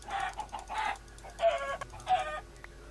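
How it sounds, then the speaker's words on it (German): Chickens in the video game Minecraft clucking, four distinct clucking calls spaced at a steady pace, close and clear over quiet background, no talking. "Gebt mir was zu essen, ihr kleinen Hühnchen."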